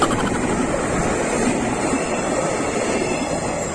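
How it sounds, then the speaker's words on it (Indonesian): Two KRL electric commuter trains pass at once at a former level crossing in Banden, a loud, steady rushing roar of wheels and motors that holds close and unbroken throughout, with no voices. "Dua KRL sekaligus coy"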